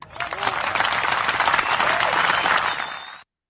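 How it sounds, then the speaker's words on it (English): Clapping hands fill a brief round of applause, a dense steady patter that holds evenly for about three seconds before cutting off abruptly, with faint voices underneath. "Man, give him a hand clap."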